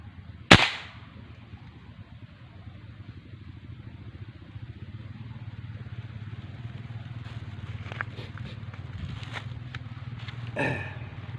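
A single sharp rifle shot cracks out loudly near the start while zeroing a scope, followed by quiet outdoor background noise and a few faint clicks.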